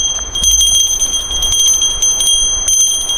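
A small metal bell rings continuously with a bright, jingling tone, shaken close by.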